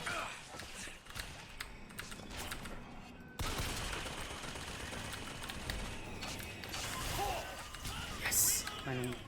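Turrets in Bioshock Infinite fire rapid bursts of gunfire amid dense, continuous game noise, with clattering mechanical sounds and a brief sharp crash near the end.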